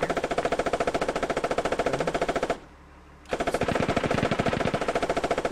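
Machine gun fire from an M2A3 Bradley IFV in the Squad game, in long rapid bursts of evenly spaced shots with a brief pause midway, loud and close with no talk.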